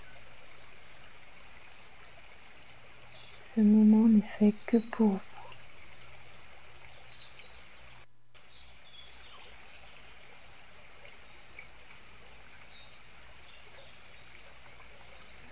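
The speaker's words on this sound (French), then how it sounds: "écoutez le son de cette rivière" A flowing river rushes steadily, with a continuous close, even water wash throughout while someone speaks softly over it for a few seconds.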